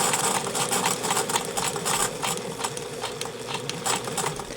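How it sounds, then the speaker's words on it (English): A sewing machine runs steadily, stitching a French seam in fabric with a fast, even mechanical chatter at close range, with no voices. "So we're going to sew all the way to the bottom"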